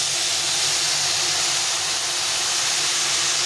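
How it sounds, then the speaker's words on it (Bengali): Mustard water is poured into a pan of frying bitter gourd and potato, setting off a loud, steady, broadband steam hiss that stays constant for a few seconds with no voices. "এখন আমি সর্ষের জলটা দিয়ে দেবো।"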